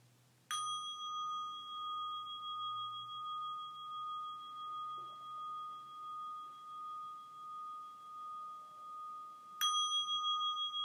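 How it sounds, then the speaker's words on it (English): Two mindfulness bells strike, one at the start and one near the end, each a clear metallic tone that rings on with a long, slowly pulsing sustain, close and alone in a quiet room. "Let me finish with 2 bells."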